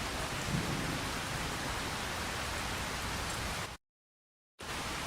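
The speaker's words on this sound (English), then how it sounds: "It's raining in here now." Heavy rain in Farming Simulator 25 pours as a dense, continuous hiss with deep rumbling underneath. It drops to silence for under a second near the end, then resumes.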